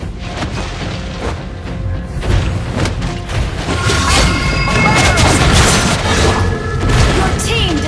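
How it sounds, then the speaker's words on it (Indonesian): A turret being destroyed in the Mobile Legends video game, heavy booming crashes and rumbling explosions layered with dense game effects, loud and continuous, with voice lines over the action. "Your team destroyed a turret."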